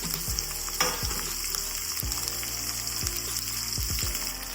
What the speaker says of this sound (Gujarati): ગાજર નાખ્યા પછી આપણે કોબીજ એટલી કાતરી નાખી દેવાની છે